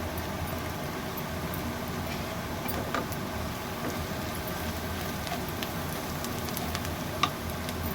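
Turmeric and chilli powder added to hot oil in a pan for a home-style tadka, giving a steady close sizzle and frying hiss with a few small pops, and no voices.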